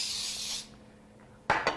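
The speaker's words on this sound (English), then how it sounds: "Now we're gonna spray the pan" Pam cooking spray hisses onto a baking pan for vegan brownies in one steady burst lasting over half a second, followed by two brief clinks of the pan or can.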